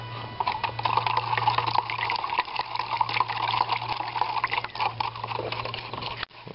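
Water pours steadily into an MRE lemon-lime drink pouch from close by, a continuous splashing fill that lasts several seconds before stopping abruptly near the end.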